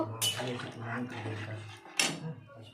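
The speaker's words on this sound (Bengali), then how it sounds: "এবার একটু হালকা জল দিয়ে দেব জলটা দিয়ে একটু নেড়ে দেব" Water is poured into a pot of braised meat and stirred, with a splashing rush near the start, scraping clinks of a spoon against the pan, another splash near the end, and a low voice faintly underneath.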